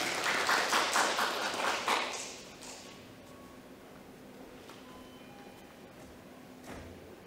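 Audience applause at a Seoul environmental forum on waste systems, dense clapping for about two seconds that quickly fades into quiet room tone with a few faint taps.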